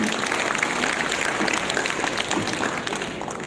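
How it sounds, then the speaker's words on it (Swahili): A seated audience at a county scholarship award ceremony claps steadily and fairly loudly for a teacher after her speech, the dense patter fading slightly toward the end. "Asante, makofi kwa jamani"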